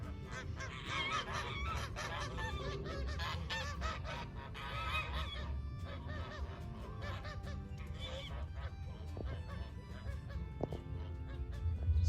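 Canada geese honk repeatedly at moderate distance, their harsh, nasal calls overlapping in an irregular flock chorus over outdoor background noise.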